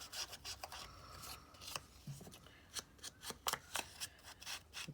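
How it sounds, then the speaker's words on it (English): Scissors cutting old fabric material to size for a sewing craft project, a series of close, quiet snips and rasping cuts in irregular bursts, no voices. "Cut it to size here."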